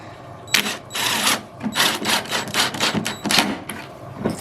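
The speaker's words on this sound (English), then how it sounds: "Now definitely put some screws in these things." Power driver running screws into cheap wooden queen-mating bee boxes, with repeated bursts of whirring and creaking wood as each screw bites in, close and fairly loud with short pauses between drives.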